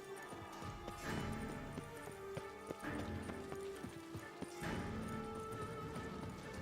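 Horse hooves clip-clopping at a steady gallop in The Witcher 3, close and fairly loud, with a rapid rhythmic beat of repeated thuds over a busy background of game ambience and music.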